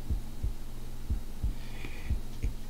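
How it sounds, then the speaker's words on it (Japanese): Low, steady heartbeat thumping in the horror-tinged video game Kimi ni Shinzou wo Agetai, about eight beats in a regular double-pulse rhythm over a soft hum, close and prominent with no talking. "心臓の音はどんどん大きくなっていく。"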